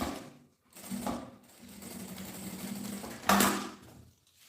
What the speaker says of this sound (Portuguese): E aqui a gente passa a costura pra segurar.